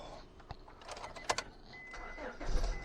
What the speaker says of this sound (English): I think it's enough to start engine.